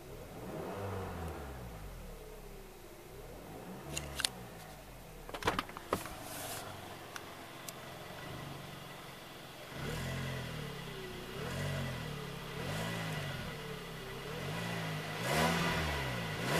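A 2013 Kia Sportage EX's engine revving, heard from inside the cabin, a steady mid-level drone that swells into several rising surges, with a few short clicks and clunks from the car's fittings in between.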